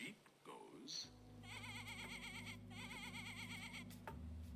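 A toy sheep's electronic bleat plays near and loud with a steady wavering electronic tone, running about three and a half seconds after a brief spoken moment at the start.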